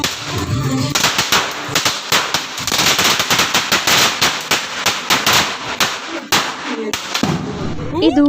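Diwali firecrackers burst at home and next door in a dense, rapid barrage of loud cracks and pops lasting several seconds, with brief voices at the start and end.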